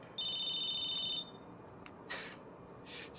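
A phone rings in Battlefield Hardline: a bright electronic ringtone trill lasts about a second and is followed by short beeping tones, fairly faint and alone.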